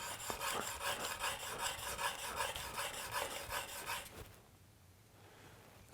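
A V-tool's flat chisel side being rubbed on a sharpening stone to raise a burr on the bevel, a close rhythmic rasping of quick back-and-forth strokes for about four seconds, then quiet.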